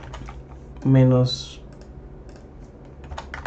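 Fingers tap on a computer keyboard in scattered, light clicks at close range, with a brief spoken word breaking in near the start.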